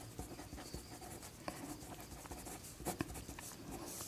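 Pen scratching steadily across paper while writing out a math solution on area of a quadrant, close and quiet with short irregular strokes and brief taps, no speech.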